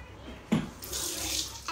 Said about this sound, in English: So I gotta add some warm water.